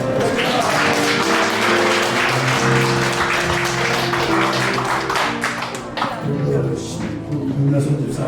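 A congregation claps at a Korean church Sunday service. The scattered, rhythmic clapping rises over sustained musical tones and fades in and out near the end.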